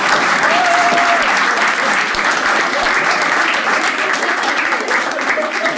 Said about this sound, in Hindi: आपको लगे रिलेटेबल, ताली बजा देना